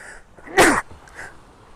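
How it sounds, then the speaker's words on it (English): A single sharp sneeze bursts out close by, with a soft intake of breath just before it. "I had to sneeze."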